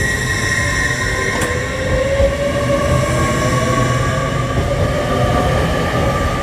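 A train rolls past on the line toward Manchester, a loud continuous rumble with high squealing wheel tones and a rail clatter, steady and close throughout, with no talk.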